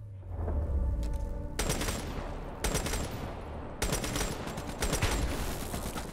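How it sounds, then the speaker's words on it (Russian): Video game gunfire in Call of Duty: Black Ops 3, loud, rapid bursts repeating in several short volleys with brief gaps between them, dense and booming, with no voices. "Звук стрельбы все равно будет такой, будто мы мочим небольшими очередями."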